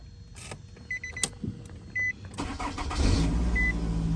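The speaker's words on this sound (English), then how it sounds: "what you're going to want to do is turn on the car" Close clicks and a couple of dashboard beeps, then a second-generation Nissan Rogue engine cranks and starts, settling into a steady low idle.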